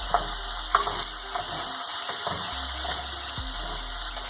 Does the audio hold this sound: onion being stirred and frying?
yes